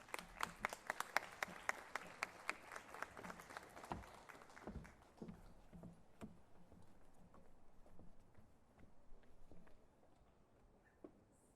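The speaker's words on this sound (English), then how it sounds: "Join me once again in a big round of applause for Principal Kristen Holm" A crowd at an outdoor school board celebration and awards event claps loudly at first, then the applause thins into scattered claps and fades away over several seconds.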